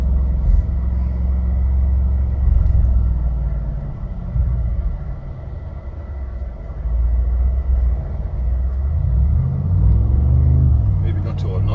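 Mercedes G63 AMG Edition 1 engine rumbling steadily while driving on German roads, a loud continuous low drone that swells and eases, with people talking inside the cabin over it.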